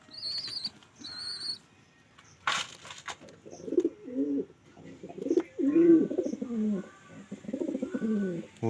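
Pigeons at a home loft, one cooing in a series of low, throaty, rolling calls repeated close by, with a brief burst of flapping wings and a few higher chirps early on.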